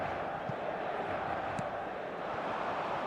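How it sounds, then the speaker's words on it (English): Crowd noise fills a stadium in the eFootball video game, a steady wash of distant roar with a couple of faint knocks. "Maybe the crowd will stay a little quieter next time."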